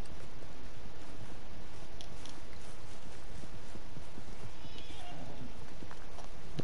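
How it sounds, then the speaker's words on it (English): A horse in the Red Dead Redemption 2 video game whinnies and clops along with dense hoofbeats, loud and close over a noisy, continuous mix. "Cadê meu cavalo?"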